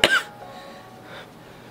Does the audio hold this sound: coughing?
yes